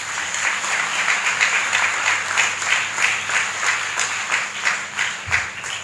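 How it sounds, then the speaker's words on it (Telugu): A church festival audience at a Mary Help of Christians feast in Godavari breaks into loud, sustained applause, a dense close wash of many hands clapping that holds steady for several seconds. "ముందుగా వీళ్ళందరికి గట్టిగా చప్పట్లు కొట్టండి"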